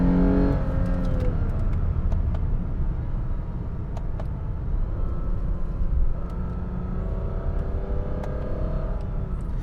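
A Lexus IS 350 V6 car engine revs, its whiny pitch climbing and dropping over a constant low rumble, close and loud.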